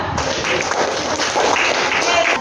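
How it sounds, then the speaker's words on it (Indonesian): Schoolchildren in a classroom clap for a group of classmates, a continuous, fairly loud wash of applause that holds steady throughout. "tepuk tangan untuk kelompok 2"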